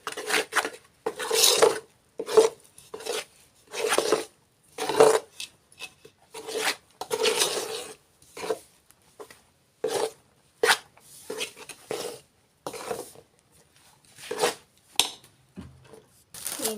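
Gram flour being mixed in a pan gives repeated scraping and rasping strokes of a spoon against metal, rhythmic bursts with short pauses, close and fairly loud, with no talking.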